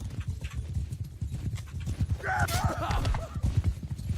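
Horse hooves clip-clop steadily through the Mount and Blade II battle, a dense galloping patter under ongoing combat noise, with a brief whinny-like cry in the middle.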